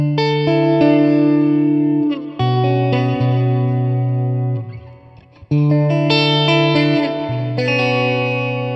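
Electric guitar through a Roland Blues Cube amp with a spacey, reverb-washed effect, playing loud sustained chords with shimmering echoing tails, briefly fading near the middle before ringing in again, with no voices.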